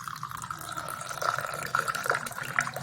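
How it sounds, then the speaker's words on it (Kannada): Boiled herb water being poured from a pot into a vessel, a steady trickling, splashing stream with a few drips, close and fairly soft. "ಈಗ ಇದ್ರ ನೀರು ಮಾತ್ರ ಇದಕ್ಕೆ ಬಗ್ಗಿಸ್ತಾ ಇದ್ದೀನಿ"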